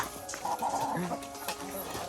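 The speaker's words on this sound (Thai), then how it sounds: "อันนี้ไม่เกี่ยวครับ ไก่ตีกันธรรมดาตัวเมีย" Farmyard hens fighting, with short bursts of squawking and clucking over a second or two, close by and fairly loud, mixed with some background voice.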